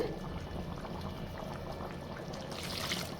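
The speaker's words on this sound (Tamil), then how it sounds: "கொஞ்சமாக இந்த மிக்சியில் தண்ணி விட்டு" Water pours steadily into a mixer jar, a continuous splashing rush with a slightly brighter gurgle near the end, no voices.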